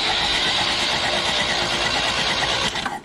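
A car engine cranks and turns over after ten years unused, a loud close churning mechanical roar that runs steadily for about three seconds and then trails off.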